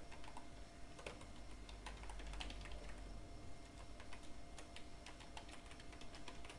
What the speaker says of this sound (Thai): กรอกอีเมลไป